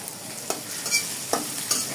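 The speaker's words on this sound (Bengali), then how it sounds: "আদা কুচানোটা ভাজার পরে যখন একটু ভাজবেন" Chopped garlic and ginger fry with dried red chillies in a pan, giving a soft steady sizzle punctuated by a few sharp scrapes of stirring.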